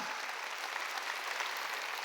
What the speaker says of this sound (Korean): 깨달았으면 박수치라고 하나님께.